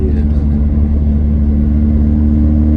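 An Opel Corsa A GSI engine drones loudly and close up with a steady, deep rumble that holds an even pitch for the whole stretch.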